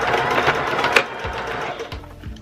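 A sewing machine stitches a cup coozie seam, guided along the presser foot edge, with a close, loud whirring needle rhythm that runs and briefly slows; no voices.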